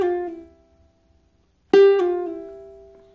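Ukulele pull-off run on one string: a fading note tail, a pause, then one pluck followed by a quick pull-off, three notes in all, clear and close with no talk.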